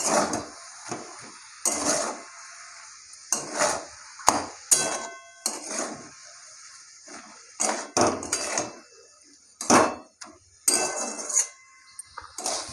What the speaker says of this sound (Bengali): এটাকে ভালো করে নাড়বো